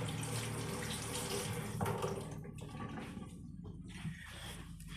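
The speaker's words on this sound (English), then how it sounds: "you want to make sure your hands are properly washed" Tap water running steadily into a sink while hands are washed, a continuous close splashing hiss with uneven shifts as the hands move through the stream, no voices.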